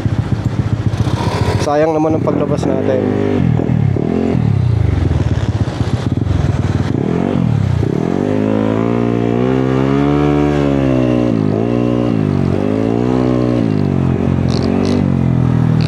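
A custom-built motorcycle idles and rides slowly to warm its engine on a rainy day, a constant loud engine drone under someone talking close to the mic.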